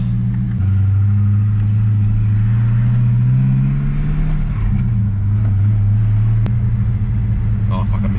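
A manual Holden Commodore SS, back on the road after a fault, drives with a loud, steady low engine drone that shifts pitch slightly midway. No voices are heard over it.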